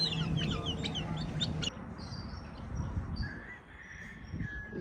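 Chickens cluck on a rural Texas farm, several close, uneven clucks and calls with scattered bird chirps over an outdoor background.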